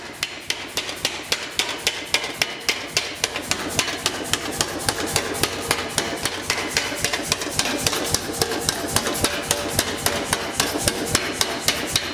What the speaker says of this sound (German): Dann kommt der Kollege der alten Dame zum Einsatz, ein Lufthammer. Viel Luft und viel Hammer.